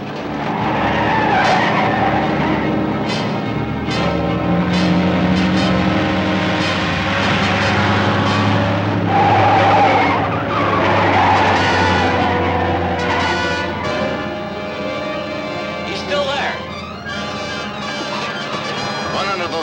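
A speeding truck skids with loud, sustained tire squeals over a roaring engine while swerving to throw off a man riding on top, the squealing rising and falling in long sweeps for the whole stretch.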